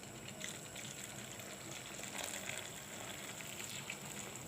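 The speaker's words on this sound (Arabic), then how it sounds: "ونضيف له بقى الميه المغليه" Boiling water poured into a pan of shrimp, a soft steady gush and splash that runs evenly throughout at low volume.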